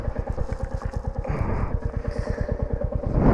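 Royal Enfield Meteor 350 motorcycle engine running steadily close by, a fast regular thumping pulse with a slight rise in revs toward the end, silencer reportedly giving trouble.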